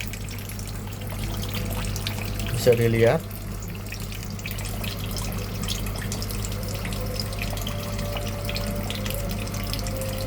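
Water rushes steadily into a Sharp ES-M7000P-GG washing machine, a constant moderate flow with a brief louder gurgle early on, while a person talks over it.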